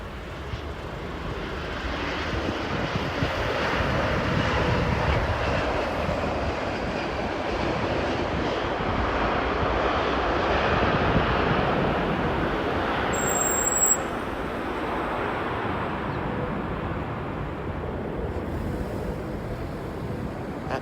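Airliner on approach to land at Heathrow, a long broadband jet engine roar building and holding steady from a distance, with a brief high tone near the middle and no talk.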